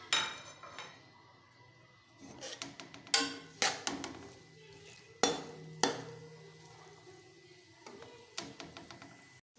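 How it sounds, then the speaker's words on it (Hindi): Onions brown in a pan for a bitter gourd pakora masala. A utensil scrapes and clinks against the pan in sharp, irregular knocks over a faint sizzle, close by and without talk. "इसमें प्याज डालेंगे ब्राउन होने के लिए।"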